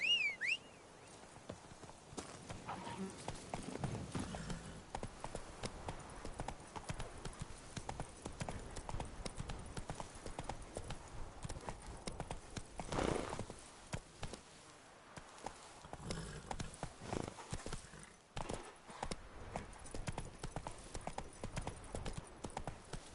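Roach the horse, from The Witcher 3 video game, moves with steady hoofbeats in continuous clip-clop rhythm, fairly quiet and close, amid soft outdoor game ambience.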